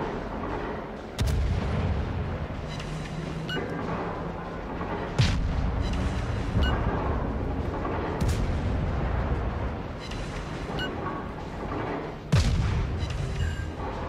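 Heavy booming naval cannon shots from an Omaha cruiser in World of Warships, several spaced apart over a continuous roar of rumbling battle noise, loud and close.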